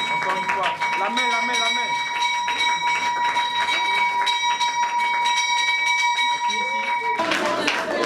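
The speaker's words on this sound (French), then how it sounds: "une cloche qui sonne" A ceremonial bell rings repeatedly at the BRVM stock exchange in Abidjan Plateau, bright sustained clangs over applause and a lively crowd with people talking throughout.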